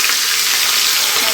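Bangda mackerel frying in hot oil, a steady dense sizzle filling the whole moment at close range with no pauses.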